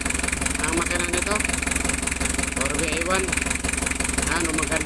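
An overhauled Isuzu 4BA1 diesel engine idles steadily up close, a loud even rhythmic knock and rumble running throughout, with someone talking over it.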